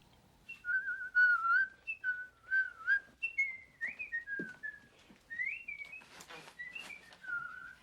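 A person whistles a lively, wandering tune with short rising and falling phrases, clear and close, with a few soft background noises.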